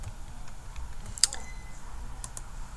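A single quick keypress on a computer keyboard for the Ctrl-C copy shortcut, one faint sharp click against a quiet room hiss.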